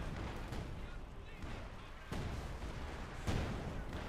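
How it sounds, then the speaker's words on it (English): A ZiS-3 field gun in Company of Heroes 2 lobs high-explosive shells, giving two heavy booms about a second apart over a constant rumbling battlefield din. "field gun bombarding"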